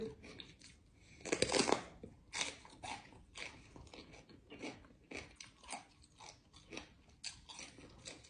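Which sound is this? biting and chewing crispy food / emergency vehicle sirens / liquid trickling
biting and chewing crispy food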